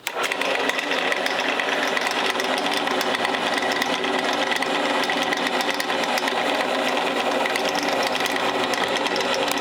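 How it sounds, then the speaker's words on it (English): A steady, loud, high-pitched whirring drone continues unbroken as a hole is drilled into a classical guitar neck, heard close up with no pauses or talking. "So I'm going to drill this, and then I need to drill out for the headstock"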